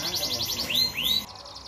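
Canaries at a breeder's home in Gandul, Depok, West Java, trill in quick repeated chirps, then give two bright rising whistled calls, close and fairly loud over a busy background.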